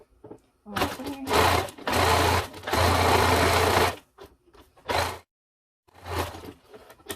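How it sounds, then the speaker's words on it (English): A sewing machine doing zigzag stitching runs in several quick bursts, a dense mechanical whir with short pauses between stitching runs. "I just do a zigzag on my sewing machine right here."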